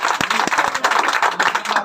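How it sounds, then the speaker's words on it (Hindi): A short burst of applause from a gathered crowd at a protest or strike meeting, with many hands clapping unevenly and close by, with faint voices underneath. "ताली बजा भैया।"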